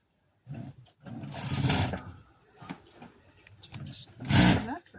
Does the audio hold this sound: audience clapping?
no